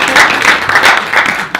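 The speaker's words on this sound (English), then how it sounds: "start this workshop with a warm applause for all participants and speakers" A workshop audience on Vlieland applauds participants and speakers, a short burst of dense, close clapping from a crowd.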